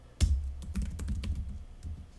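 Typing on a computer keyboard, a quick irregular run of close, crisp key clicks and taps following one firmer initial press, heard alone without talk.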